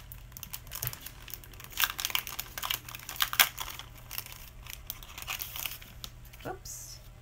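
Paper card with a fancy double Z fold being handled and pulled out, giving soft crinkling and rustling with a few sharper crackles, fairly close and quiet, over low background noise.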